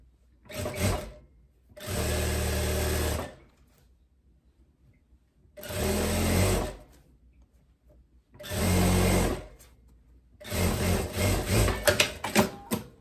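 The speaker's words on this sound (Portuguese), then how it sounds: "passei a primeira costura" Sewing machine stitching a seam to hold elastic in the waist of a long dress, running in four steady bursts of a few seconds each, separated by short pauses and quiet handling of the fabric.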